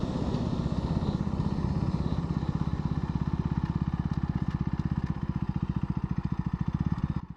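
A KTM Duke 160 single-cylinder engine pulls away in first gear, its steady, close putter turning into a quicker, even thump as the revs climb, then easing off at the end.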